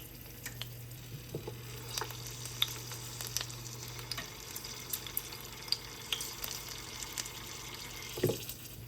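Garlic fries gently in oil, a soft continuous sizzle with small crackles and occasional stirring clicks, close but quiet, with a faint steady hum underneath.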